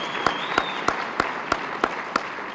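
Clapping at a chamber of commerce annual meeting comes as crisp, evenly spaced claps about three per second, standing out over a low hum of background room noise.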